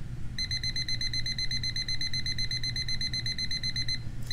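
A HuTools iron's timer beeps in a fast, steady, high-pitched pattern for about four seconds, clear over a low background hum, with no talking.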